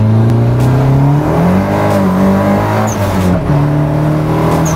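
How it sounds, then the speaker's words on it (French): A Nissan 200SX S13 engine revs hard at full throttle in second gear, holding a loud strained steady drone that dips and climbs again as it accelerates. "Donc on se met en seconde, on accélère, pied planche."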